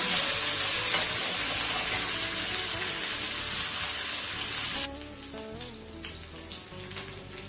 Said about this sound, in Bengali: বেগুন ডাঁটা সব ফ্রাই হয়ে গেছে, লাল লাল হয়ে গেছে